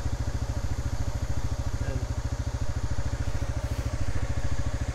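A Kymco KRV scooter's engine idles with a strong, steady vibrating rattle, close and continuous throughout with no talking.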